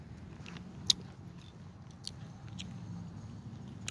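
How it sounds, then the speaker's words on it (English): Spearmint gum being chewed on an outdoor walk, faint close-up clicks and smacks scattered irregularly over low ambient noise. "Some spearmint gum."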